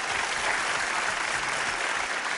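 A studio audience at a televised archaeology lecture applauds steadily as a professor is welcomed back to the stage: a dense, even wash of many hands clapping with no voices over it.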